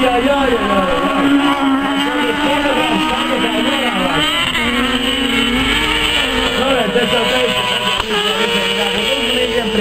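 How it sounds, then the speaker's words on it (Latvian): Fast race cars driving on a track give a continuous loud engine drone with rising and falling pitch, and someone talks over the noise throughout. "šīs mašīnas ļoti ātras"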